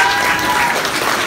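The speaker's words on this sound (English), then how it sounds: "Everyone wants to give a round of applause?" Crowd applause at the Suffolk Super Comic Con in Bury St Edmunds, a dense, steady patter of many hands clapping without a break through the short stretch, fairly loud and close.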